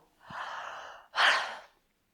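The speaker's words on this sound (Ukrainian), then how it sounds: "Щось я позіхаю." A cartoon character yawns after a big meal: a long breathy inhale, a brief pause, then a louder, rushing exhale, close and alone.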